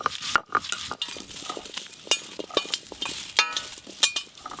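Garlic cloves fry in mustard oil for a mashed garlic dish, giving a steady close sizzle broken by sharp clinks and scrapes of a spatula stirring against the pan.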